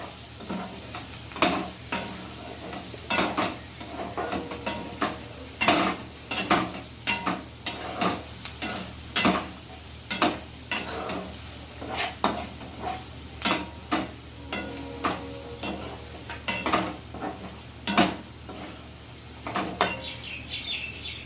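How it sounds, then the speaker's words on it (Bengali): Spice paste with turmeric being stirred and fried in a pan, giving a steady close sizzle broken by repeated scraping strokes of the spoon at an irregular rhythm, with no talking. "দিয়ে মশলাটাকে কষানো হবে।"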